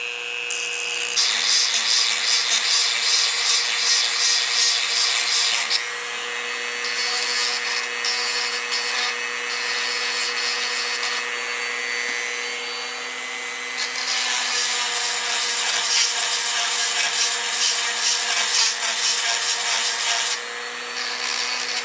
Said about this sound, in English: the way I keep track of the teeth I've sharpened is to actually polish them a little bit across the top